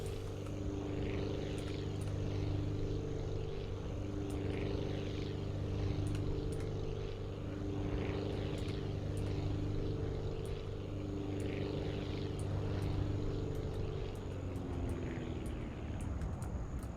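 A propeller plane drones steadily in the video game Aviassembly, its engine a constant low hum with a whirring airscrew, holding even and close before the pitch dips slightly near the end.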